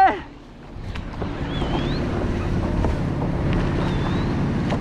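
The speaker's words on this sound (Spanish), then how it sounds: "¡Ahí vienen las olas!" Ocean waves wash continuously at Acapulco while paddle surfing, a broad rushing surge mixed with heavy wind buffeting against the microphone and faint voices in the background.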